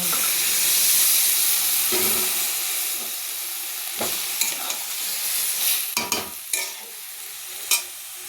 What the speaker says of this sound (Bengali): তো আমি একটু জল ঢেলে দেবো